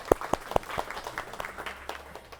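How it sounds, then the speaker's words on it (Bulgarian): An audience claps at a business community presentation in Burgas, a few loud, distinct claps followed by scattered, fading applause in a room. "Аплодисменти за него."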